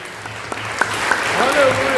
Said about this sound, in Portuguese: Glorifique a Deus com palmas de vitória para Jesus.